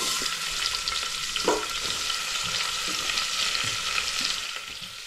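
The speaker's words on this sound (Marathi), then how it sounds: "आता यात टाकणार आहोत आपण कांदा." Whole spices such as cloves, cinnamon and star anise frying in oil as onion goes into the pan, a loud continuous sizzle with stirring and a brief thump of the addition, close up and without talk.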